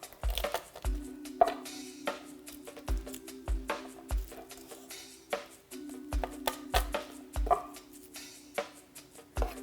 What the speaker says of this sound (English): Now I'm going to cut the garlic into a small dice.